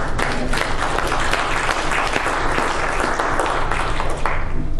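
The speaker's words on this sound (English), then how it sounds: "Give the Lord another hand clap of praise." A church congregation claps in praise to the Lord during a sermon, a loud, sustained and dense burst of many hands that continues evenly across the whole stretch.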